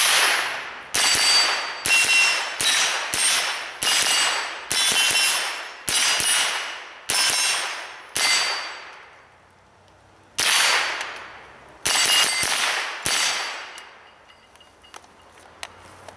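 A Smith & Wesson M&P 15-22 .22 rimfire rifle fires around a dozen sharp, loud shots in quick semi-automatic strings, each crack trailing off in a short echo, with a pause midway before a final cluster.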